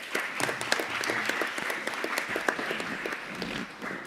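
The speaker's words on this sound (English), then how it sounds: "please let's have another round of applause" Audience applause fills a conference room, dense steady clapping from many hands sustained for about four seconds and easing slightly toward the end.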